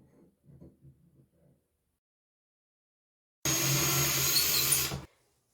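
A power drill bores holes into a bathroom wall to mount a shelf, one loud steady whir lasting about a second and a half after quiet moments of soft handling noise.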